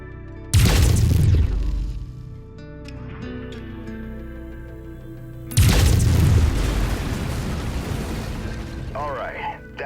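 Heavy laser weapons fire from a battle mech in MechWarrior 5: Mercenaries, with two loud booming bursts about five seconds apart, each trailing off into a rumbling decay.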